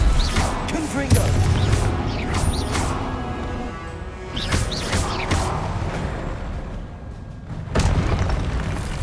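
Booming blasts from a Confringo blasting curse in Hogwarts Legacy, several loud crashing explosions scattered through a busy combat scene with ongoing impacts and clatter.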